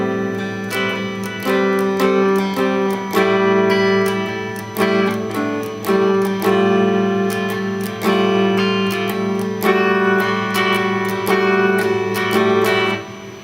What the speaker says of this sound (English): we're just going to be working with some open chord shapes that shift up and down the neck